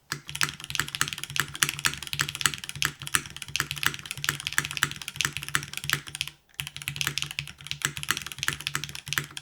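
Steady, busy typing on a Touchstone full-size top-mount mechanical keyboard fitted with Cherry switches: dense, rapid clacks of varied loudness, close-up and continuous, with one brief pause near the end and no talk.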